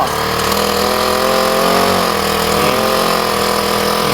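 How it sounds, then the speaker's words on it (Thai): A small Honda four-stroke engine on a short-shaft portable boat outboard runs close by at a steady, even idle, a smooth continuous drone with a faint shift in pitch partway through. "เดี๋ยวเรามาลองฟังเสียงเครื่องยนต์ดู สี่จังหวะนะครับฮอนด้าเสียงมันจะนุ่ม"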